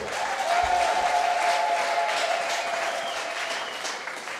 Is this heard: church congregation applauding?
yes